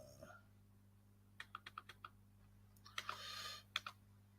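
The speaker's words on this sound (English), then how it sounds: "my pad, if you touch it lightly, it's also like clicking." Light clicks of a laptop touchpad being tapped, a quick run of about five sharp, close ticks followed by a denser cluster of clicks, heard over a steady low electrical hum in a quiet room.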